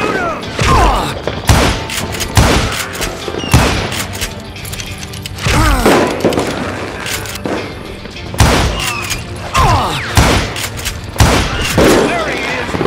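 Repeated loud gunshot bursts and booms from Call of Juarez: Gunslinger, a Wild West shooter on PC, with sharp cracks coming in clusters across the span and voices shouting over the shooting.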